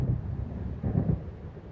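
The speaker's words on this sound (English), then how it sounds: "It seems there's a storm coming." Low rumbling thunder of a storm rolling in over open water in the video game Alan Wake, a steady dark roar with a swelling surge midway, alone with no voices.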